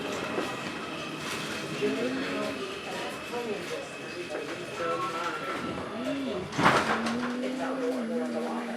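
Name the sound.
R142 subway train running between 28th and 34th Street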